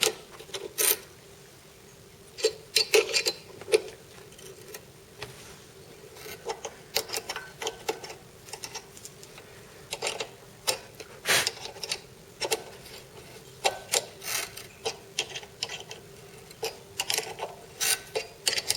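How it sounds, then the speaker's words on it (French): A tap cutting screw threads into metal gives quiet, irregular ratcheting clicks and scraping bursts at close range, in uneven clusters against a faint background hum. "Je vais faire des pas de vis"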